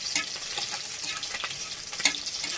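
Panch phoron spice seeds crackling and sizzling in hot oil, a dense close fizz with small pops and a sharper crackle near the end, heard alone.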